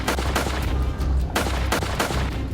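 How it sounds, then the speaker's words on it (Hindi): Rapid, continuous gunfire in an exchange between Assam black panther commandos and militants, with overlapping bursts and single cracks rattling close and loud with no pause. "जैसे ही उग्रवादियों और कमांडोज का आमना सामना होता है, दोनों ओर से ताबड़तोड़ फायरिंग शुरू हो गई।"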